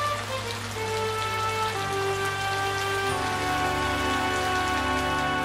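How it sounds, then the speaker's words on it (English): Steady rain falls in a hilly countryside, a dense, continuous hiss of drops on surfaces with an even, unbroken wash throughout, fairly close and alone. "The rain came on as he climbed up the next hill."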